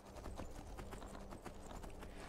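Horse hooves clip-clop steadily at a brisk riding pace in the Skyrim video game, a continuous rhythmic clatter of evenly spaced hoofbeats heard close and alone.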